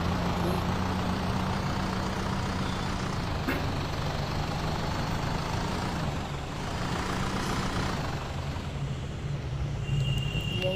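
A bus engine in a mobile driving game drones continuously at a steady, moderate level, with a high electronic whine and faint game effects layered over it throughout.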